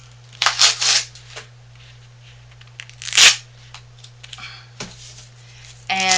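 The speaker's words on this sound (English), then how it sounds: "I'm going to cut through the tape on both sides" Tape being cut on both sides of a soap mold during gift soap making, giving a few short crisp snips and scrapes with quiet pauses between them over a steady low hum.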